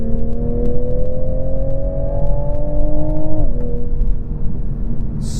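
A 2022 Toyota A90 Supra's B58 engine, rated at 382 horsepower, pulls hard from inside the cabin with a steadily rising whir, then drops briefly at a gear change before climbing again, loud and continuous.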